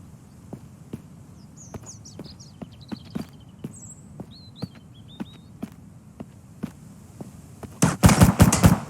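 Sharp, evenly spaced gunshots ring out in a video game, fired at the player roughly every half-second, moderately loud, with faint chirpy game sounds between and a harsh burst of noise at the end.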